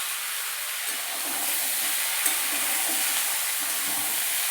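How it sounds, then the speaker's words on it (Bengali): Hog plums dropped into hot oil with crushed ginger and five-spice, giving a steady, dense frying sizzle and hiss, close and continuous with no talk. "তেল গরম হয়ে যাওয়ার পর আমি পাঁচফোড়ন আর আদা থেতো দিয়ে আমড়াগুলো আমি দিয়ে দিয়েছি তেলের মধ্যে"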